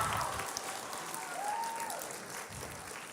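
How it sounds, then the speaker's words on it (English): Audience applause at an 8th grade celebration, given for the teacher Miss Pearson: a steady, fairly faint wash of clapping from a crowd, continuous throughout and without talk. "let's give her a round of applause"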